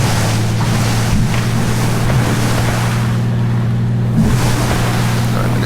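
A seaplane skims across the water in Microsoft Flight Simulator X, a steady engine drone with a low harmonic hum running continuously beneath broadband splashing and rushing water noise, loud and unbroken throughout.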